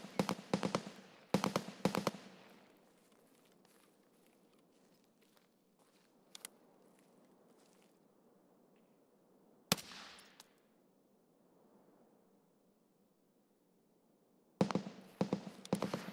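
Bursts of full-auto gunfire in Escape From Tarkov: several rapid volleys at the start, a lone sharp shot midway, then another burst near the end, with quiet shuffling between.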